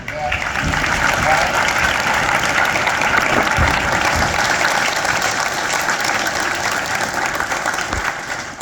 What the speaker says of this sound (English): I want to give a round of applause to all the kiddos that wrote them.